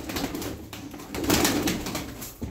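Pigeon cooing from a loft of domestic pigeons, a continuous low throaty coo that swells and fades across the moment, close by with no talk.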